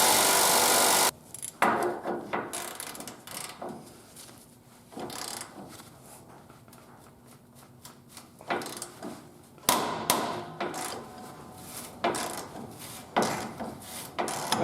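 Rusty, crusty body bolt being worked out of a Jeep Wrangler YJ during a body lift, giving scraping, grinding tool rubs in irregular bursts with brief pauses, close and moderately loud.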